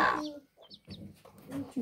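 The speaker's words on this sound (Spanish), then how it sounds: "Miren, esa gallina tiene pollitos." A hen with chicks clucks in short bursts close by, with a few thin, high chick peeps in between and some people talking faintly.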